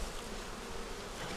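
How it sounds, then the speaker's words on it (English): Honeybees buzz steadily and close at a hive with a screen bottom, a continuous insect drone with no talking. "a bee flying off of the paper."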